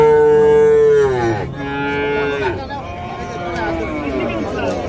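Cattle at a village cattle market give loud, close, drawn-out moos, one long call followed by a shorter one, with a person talking over the lowing.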